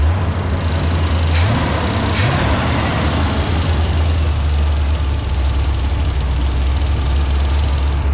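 A steady, loud 1977 Cutlass engine with an exhaust blowout idles close by with a constant low rumble, a faint repetitive ticking riding on top throughout.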